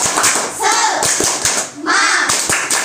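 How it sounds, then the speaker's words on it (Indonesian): Children perform a rhythmic spirit clap during a lesson, with sharp hand claps landing in a steady beat between bursts of young voices chanting. "Tepuk semangat."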